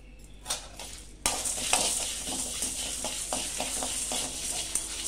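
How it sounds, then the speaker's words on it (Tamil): Black pepper and cumin dry roasting in a pan, soft scraping stir strokes and a faint crackle, quiet at first then a steadier close roasting rustle with repeated spatula scrapes. "இது எல்லாத்தையும் நல்லா வறுப்போம்"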